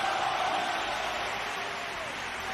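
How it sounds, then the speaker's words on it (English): Steady, dense applause from a studio audience during a news-style show, a continuous wash of clapping at even loudness throughout with no gaps. "Give him a round of applause."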